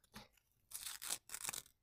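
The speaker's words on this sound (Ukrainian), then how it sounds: "Давайте роздивляємось і відкриваємо цей пакетик." A paper surprise packet being torn open by hand, with several bursts of crisp tearing and crinkling up close, no talking.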